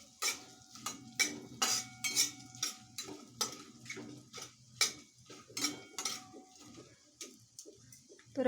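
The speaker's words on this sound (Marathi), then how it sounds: "तर यानंतर याच्यामध्ये अर्धा एक चमचा धना आहे ते घालते हे सर्व मसाले परतून घ्यायचे आहेत व्यवस्थित" Spices including coriander seeds being sautéed in a pan for paneer Kolhapuri, heard as a rhythmic series of sharp metallic spoon clinks and scrapes against the pan, fairly close, with quiet gaps between strokes.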